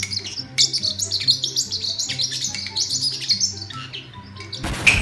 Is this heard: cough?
no